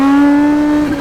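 A 1000cc-plus motorcycle engine held at about 5,000 RPM, a loud, steady, close buzzing drone that sags slightly near the end, with no talking over it.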